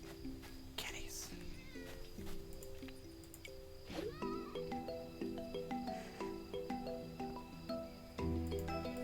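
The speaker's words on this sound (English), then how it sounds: "Kitties." Cats meow repeatedly in the farming video game Roots of Pacha, short mewing calls over steady game music and ambient sounds.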